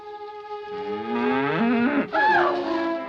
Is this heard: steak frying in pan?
no